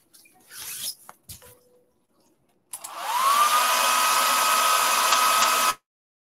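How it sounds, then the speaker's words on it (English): A hair dryer switches on and blows steadily for about three seconds, drying a decoupage craft piece made with silk stencil and fabric transfer, after a few brief handling noises and rustles. "Now let me blow dry, then we will do something else."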